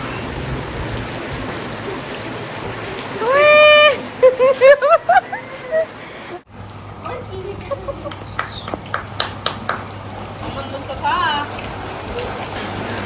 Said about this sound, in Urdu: تقریباً ایک دن چھوڑ کے ایک دن بارش ہو رہی ہے